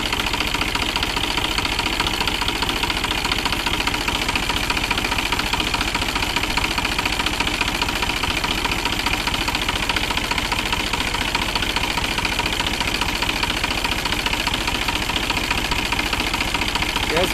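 A New Holland 47 hp tractor engine idles steadily and loudly close by, with a continuous knocking diesel rumble that does not let up for the whole stretch.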